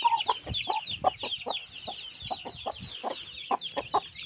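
A hen clucking close by, a rapid series of short throaty clucks in an uneven rhythm with higher bird chatter in the background.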